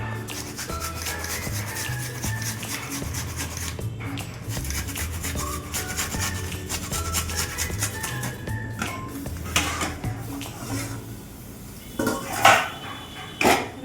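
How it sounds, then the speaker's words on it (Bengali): Two onions rubbed back and forth across a metal kitchen grater, a steady rasping scrape repeated close up, ending with a few louder knocks and clatters. "পেঁয়াজগুলি আবার এই গ্রেটারটা দিয়ে একটু ঘষে নেব, দুটো পেঁয়াজ ঘষে নেব"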